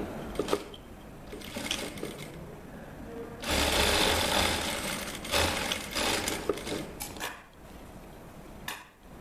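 A sewing machine stitches a pocket onto a shirt, running in a loud, close mechanical whir with bursts and pauses, with faint clinks between runs.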